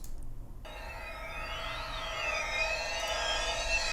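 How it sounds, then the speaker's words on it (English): An uplifter riser effect from a sample library starts abruptly after a brief quiet moment, then swells in a steady tonal sweep with gliding high tones that climb and build over several seconds. "This is an uplifter."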